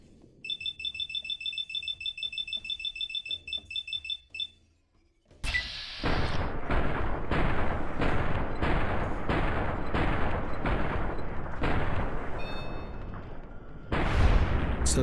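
All-American rifle fired in Fallout: New Vegas: a rapid beeping alarm gives way to a steady string of loud, sharp gunshots, about one per second, followed by a final shot after a short pause.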